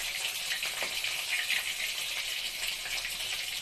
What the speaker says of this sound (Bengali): আর এইদিকে মাছ ভাজা, দেখো মাছগুলো বন্ধুরা আমার একটু ভেঙে ভেঙে গেল